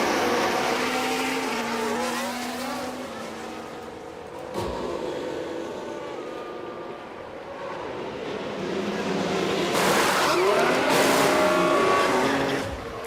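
F1 cars in F1 Manager 24 at the United States Grand Prix at COTA whine past as they enter the pit lane, high revving engine tones rising and falling, one loud close pass near the end.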